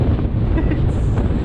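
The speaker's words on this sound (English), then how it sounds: "super windy." Strong hurricane wind buffets the microphone outdoors in a steady, loud, low roar with no clear voices.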